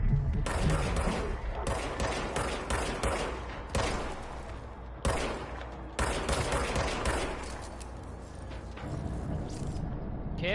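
Gunfire in the video game Control, a series of sharp shots in irregular bursts and single cracks, some close together, over a continuous low rumbling background.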